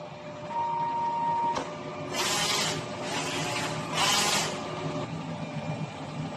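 A DTF printer runs a nozzle test, its print head carriage sweeping back and forth in three rasping passes over a steady mechanical hum, with a short tone and a click early on.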